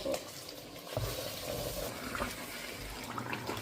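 Flour batter made with sugar and oil is stirred in an oiled pan, a close wet scraping and gentle sizzle that keeps going steadily throughout, fairly quiet, with no one talking.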